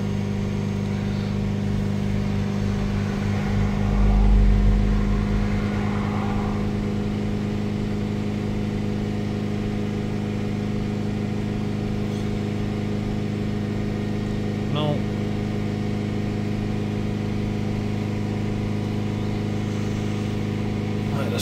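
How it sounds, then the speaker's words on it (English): A Ford Transit minibus diesel engine with DPF issues drones steadily with a brief rise in revs early on, then holds a constant hum for a long stretch. "So we just hold the revs up"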